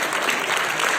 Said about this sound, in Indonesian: Tepuk tangan yang paling meriah dulu satu